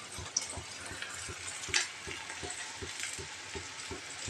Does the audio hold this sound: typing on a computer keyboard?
no